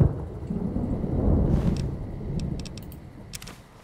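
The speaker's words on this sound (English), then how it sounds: "The storm's pretty loud, isn't it?" A thunderstorm rumbles in the Fallout New Vegas game, a low rolling roar of thunder that swells and fades over a few seconds, with rain hiss and sharp crackling bursts near the end.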